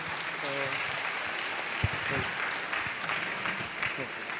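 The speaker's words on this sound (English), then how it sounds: "a huge round of applause for them to taking out time on a Sunday" Steady applause from students honouring visiting alumni at an IIT Madras freshers and alumni meetup, a continuous dense clapping wash with brief voices and a few cheers audible underneath.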